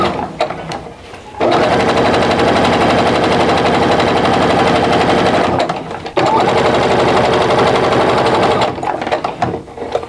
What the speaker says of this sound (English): I'll just get those lined up as I put them in my sewing machine.